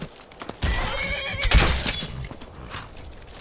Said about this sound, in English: there's wolves attacking my horse!